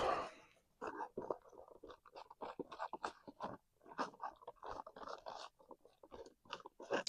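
Crunchy noodles cooked on a camp stove being chewed close to the mic at a snowy winter hammock camp on the Appalachian Trail, with rapid, irregular crunching bites continuing steadily and no speech.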